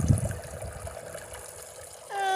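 A garden water feature trickles steadily in the background, a soft continuous splashing that stays fairly faint, with a brief clearer tonal sound near the end.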